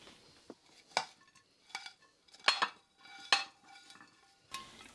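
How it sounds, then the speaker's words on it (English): Raw ground beef, flavored with cream cheese, being pressed and spooned into a 9x9 inch casserole dish for a keto bacon cheeseburger casserole, with scattered soft clinks and scrapes of utensil against the dish, close and quiet with gaps between. "I'm going to put in my ground beef first"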